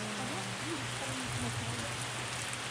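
Steady rain falls in a continuous wash of hiss, close and moderately loud, with a faint voice-like murmur low underneath.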